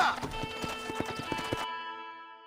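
A horse's hooves clip-clop at a steady trot in the Red Dead Redemption video game, evenly spaced close footfalls over an ambient musical drone that lingers alone after the hoofbeats stop.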